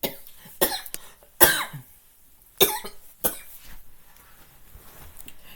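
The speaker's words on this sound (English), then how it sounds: "Me and this cough, man, and it's not good." Several sharp, harsh coughs burst out close by in an irregular sequence, separated by short pauses, with no talking.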